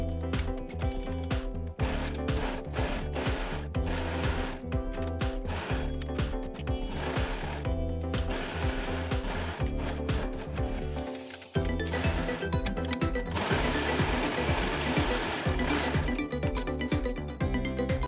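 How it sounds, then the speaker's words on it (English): An overlocker stitches knit fabric for a bell sleeve crop top, running fast and close in rhythmic bursts with brief pauses between runs. "we're going to overlock from there going outwards towards the side seam"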